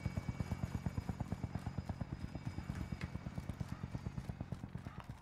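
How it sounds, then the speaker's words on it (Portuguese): A helicopter in the video game Call of Duty Warzone, its rotor chopping in a fast, even rhythm throughout at moderate distance, steady and unbroken with no talk over it. "E agora o helicóptero vai ficar ali? Foi embora, vai embora."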